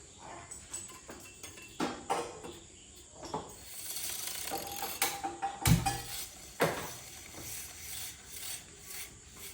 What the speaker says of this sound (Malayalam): ഇനി നമുക്ക് കോഫി ബീറ്ററായിട്ട് നല്ലവണ്ണം ബീറ്റ് ചെയ്ത് കൊടുക്കാം.